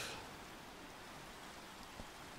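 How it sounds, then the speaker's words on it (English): Steady rain falls in a dark video game scene, a soft, even hiss throughout with no voices over it. "Wow, it's really dark when it rains."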